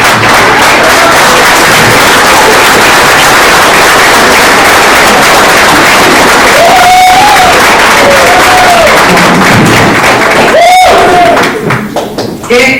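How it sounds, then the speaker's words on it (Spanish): Loud crowd applause and cheering at a gathering in Querétaro, constant dense clapping with whoops and shouts rising over it, and voices calling out near the end. "le doy un fuerte aplauso"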